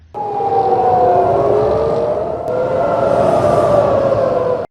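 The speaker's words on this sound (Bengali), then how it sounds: "ক্ষেপণাস্ত্র হামলা শুরুর পরপরই ইসরায়েল জুড়ে সতর্কতা সাইরেন বাজতে শুরু করে" Air raid warning sirens wail across Israel during an Iranian missile attack, several loud rising and falling tones overlapping continuously, with a brief dip midway before the wailing resumes.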